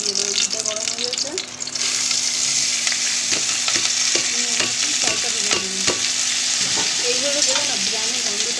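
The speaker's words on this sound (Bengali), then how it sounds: "ঘিটা গরম করে নিয়েছি, এর মধ্যে এবার চালটা দিয়ে দেবো" Rice dropped into hot ghee for biryani: a loud, continuous sizzle and frying hiss, with occasional scrapes and clinks of a spoon stirring through the grains, heard up close.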